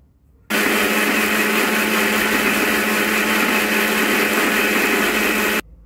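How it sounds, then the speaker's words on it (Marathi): A mixer grinder whirs steadily and loudly for about five seconds, blending peanuts, sesame and dal with a little water into a fine paste, starting and stopping abruptly with no voices. "शेंगदाणे, तीळ आणि डाळ आपल्याला मिक्सरमध्ये थोडेसे पाणी घालून अगदी बारीक अशी आपल्याला याची पेस्ट तयार करून"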